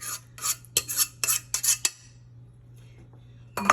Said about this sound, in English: So now I'm adding the bechamel on top of it.